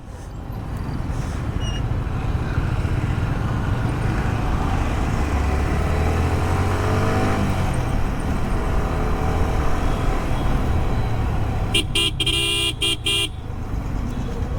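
Car driving through congested Delhi traffic, a steady engine and road rumble holding throughout, with a short burst of horn honking near the end.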